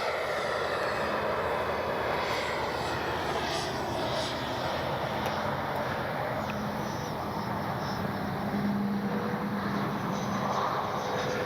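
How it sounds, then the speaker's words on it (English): A Freewing Avanti S V2 RC jet flies past in gusty wind with a steady, continuous high-pitched turbine-like whoosh. The sound holds at an even level throughout and is accompanied by broadband wind noise, with no talk. "Even with this wind, the Avanti is such a stable, locked-in jet."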